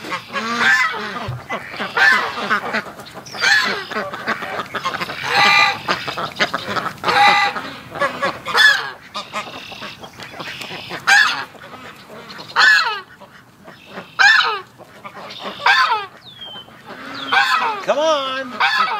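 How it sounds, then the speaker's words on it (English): Ducks quack over and over in a lively, overlapping chorus, loud and close, with honking calls mixed in, likely from geese. "The way I hear the quacking, yeah, there they are."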